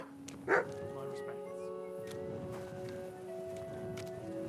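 A single short dog bark rings out in a video game, followed by sustained musical tones and soft ambient game sounds.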